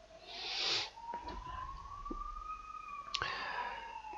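A police siren wails outside, fairly distant and steady, its pitch gliding slowly upward, with a few sharp clicks nearby.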